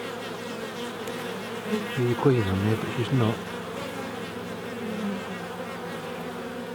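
Honeybees buzz steadily over a healthy hive frame, a dense continuous drone, while a beekeeper talks close by.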